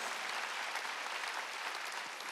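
A church congregation claps during a Wednesday worship service, a steady, dense wash of applause from many hands at moderate distance, with no talk over it.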